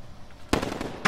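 Two sharp gunshot bursts in the shooter Call of Duty Modern Warfare, a crackling cluster midway followed by another shot at the end, fairly close over quiet game ambience.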